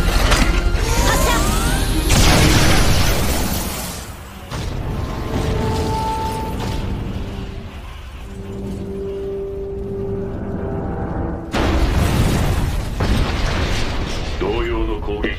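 A Pod's laser cannon in Nier Automata fires at maximum output in close-range mode. A loud, sustained roaring blast carries whining mechanical tones, drops briefly twice, then surges again, with a voice speaking over it.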